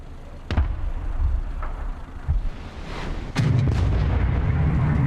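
Gunfire in a video game battle, with a sharp opening shot followed by repeated bursts and explosive cracks. The firing grows heavier and closer toward the end, ending in a sustained rumble.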